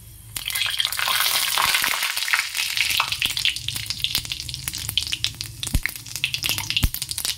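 Dried red chili, cumin seeds and bay leaf sizzle and crackle in hot oil in a pan. Bright frying hiss is broken by sharp pops and stirring scrapes, close and busy throughout.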